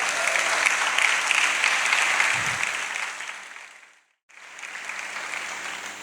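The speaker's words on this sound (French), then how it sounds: "Merci de l'accueillir par vos applaudissements." Audience applause welcoming a guest at a church gathering: a steady wash of clapping that breaks off into a brief silence, then resumes at similar strength.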